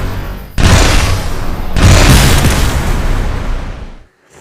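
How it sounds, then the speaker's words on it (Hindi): Explosive bullets detonating in the Dude Theft Wars mobile game, two loud booming blasts close together with rolling rumble that cuts off near the end, no talking over them. "फिर एक्सप्लोसिव बुलेट्स, इससे तुम्हारा बुलेट्स बम बन जाते हैं।"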